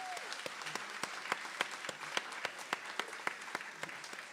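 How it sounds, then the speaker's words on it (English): Audience applause for award winners at an environmental awards ceremony in Brooklyn Borough Hall, a steady patter of many hands with sharper individual claps standing out, sustained and fairly close throughout. "So let's give all of the winners a round of applause."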